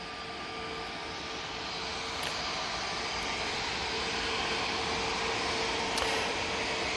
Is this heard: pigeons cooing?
no